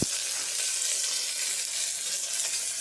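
Ground masala paste sautéing in hot oil for a roasted gram and green pea parotta salna, a steady, bright sizzle hissing continuously on its own with no voices.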